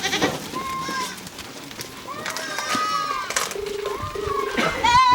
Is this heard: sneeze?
no